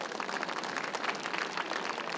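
An audience applauding at a boxing match, a steady dense clapping from a sizeable crowd that holds at an even loudness throughout.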